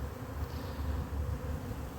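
Soft, steady drone of honey bees buzzing around a hive split into several small nucleus boxes, a low continuous hum at fairly close range with no voices.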